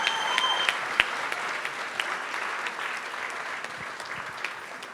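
Applause for the grandparents at a wedding celebration, a room full of people clapping steadily with a few sharp claps near the start, gradually thinning out.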